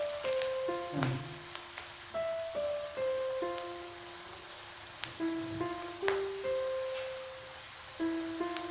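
Chopped onion sautés in a pan of hot oil for a spiced flatbread breakfast, cooked only lightly rather than browned. A steady, soft sizzle continues throughout beneath sustained musical tones.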